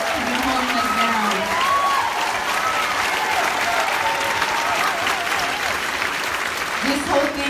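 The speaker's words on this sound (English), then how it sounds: "give yourselves a round of applause" Audience at a launch party clapping and cheering in a sustained burst of applause that fills the room, with voices calling out over the clapping throughout.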